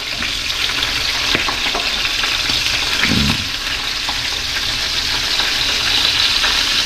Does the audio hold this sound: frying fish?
yes